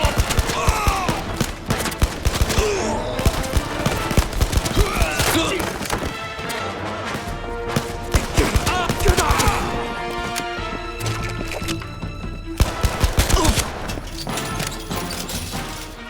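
Rapid, loud bursts of gunfire and impacts from the PSVR shooter game Blood and Truth on PS4 Pro, dense and continuous with crashes and thuds mixed in for the whole stretch.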